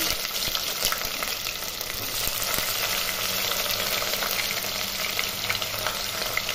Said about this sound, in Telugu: ఇవి బాగా వేగిపోయాక అందులో సన్నగా తరిగి పెట్టుకున్న ఉల్లిపాయ ముక్కలు